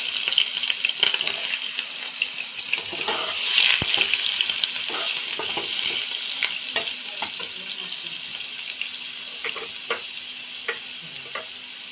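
Cut potatoes with cumin frying in hot oil in a pan: a constant crackling sizzle broken by scraping and clinking as the pieces are stirred, with no voices.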